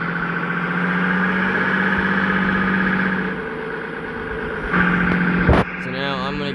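A 1970s-era farm tractor engine idles steadily with a low, even drone, rising briefly near the end with a clunk, while someone talks nearby.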